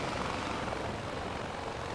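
A helicopter in the video game Far Cry 4 flies with a steady, loud whirring engine and rotor drone that fills the whole moment without a break.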